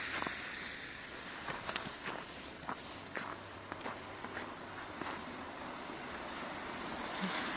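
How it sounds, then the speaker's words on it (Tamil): Cars driving past on a snowy winter road in Canada, a steady low roadway hiss with soft slushy tire swishes and a few brief crunchy steps nearby, distant and continuous throughout. "கார்ஸ் எல்லாம் போகுது."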